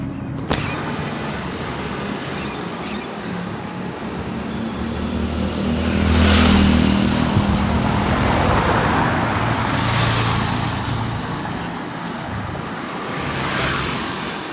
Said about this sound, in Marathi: जिकडे जावं तिकडे गाड्याच आहेत.